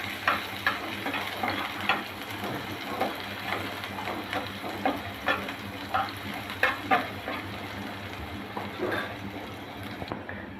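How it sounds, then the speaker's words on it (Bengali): Chopped onions, with garlic, fry in oil for a bitter gourd mash: a continuous soft sizzle with regular light clicks and scrapes of stirring, fairly quiet and close, no voices. "পেঁয়াজটা একটু লাল লাল করে ভেজে নেব।"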